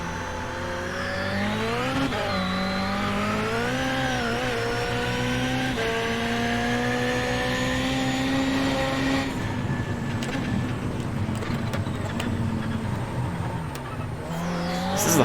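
A Ford Fiesta rallycross car in the iRacing game at Phoenix Rallycross revs and shifts repeatedly, its engine tone climbing and dropping through gears, loud and close, then easing into a rougher rumble with brief bursts near the end.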